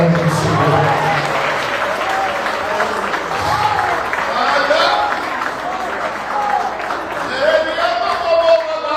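Church congregation applauding during a worship service, sustained clapping from a crowd mixed with voices and raised singing or shouting throughout.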